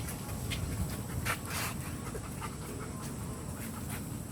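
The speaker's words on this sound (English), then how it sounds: "Pretty dog." A dog pants quietly with quick, soft breaths over a low, steady background rumble in a park.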